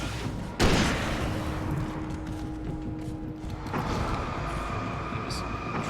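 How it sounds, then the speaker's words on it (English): A sudden loud blast in the video game Alan Wake, a sharp boom followed by a long rumbling decay and lingering low hum. "There was like a random explosion."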